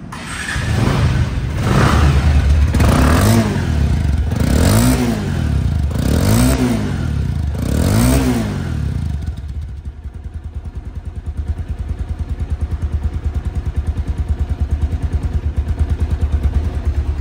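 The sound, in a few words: Bajaj Avenger motorcycle engine revving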